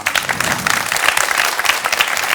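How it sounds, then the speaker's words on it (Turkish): Studio audience applause breaks out on a TV talk show, a dense burst of many hands clapping at once, loud and sustained without talk. "Bir alkış yok mu ya?"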